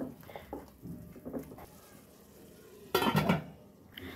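A spoon works chili, turmeric and cumin powder into dried fish and beans in a pan, giving soft intermittent scrapes and clinks, then a louder burst of scraping near the end.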